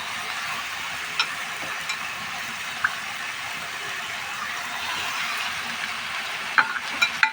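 Washed chicken pieces fry in a hot pan for a chicken thoran, giving a steady sizzle with a few light stirring clicks and scrapes, close and fairly quiet, with no talking.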